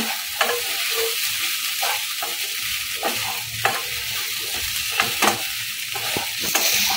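Sabudana khichdi with sugar and salt is stirred in a hot pan, with repeated scraping strokes of a spoon over a steady sizzle, close and moderately loud, no talking.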